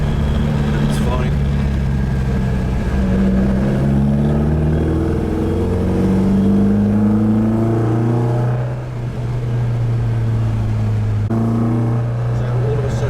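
Ford Escort with a swapped 180bhp ST engine pulls hard through the gears, its engine note climbing in pitch and dropping at each change, steady and close under continuous talking.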